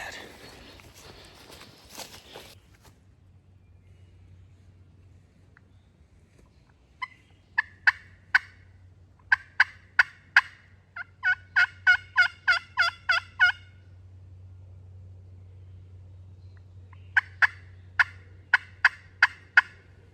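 A wild turkey gobbles repeatedly in woodland near a gas line, a series of loud, sharp, rattling bursts coming in clusters over a low steady hum, with a brief rustle at the start and no talk.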